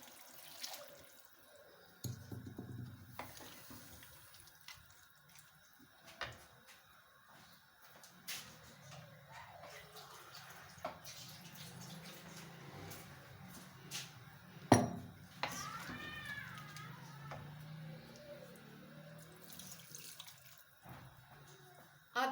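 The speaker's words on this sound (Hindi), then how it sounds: "अब इसके बीच में 1 गिलास पानी का डाल दूंगी।" A glass of water is poured into a pot of aloo gosht, a splashing, trickling stream that comes in bursts with scrapes and small knocks of kitchen handling between them, fairly close and without talk.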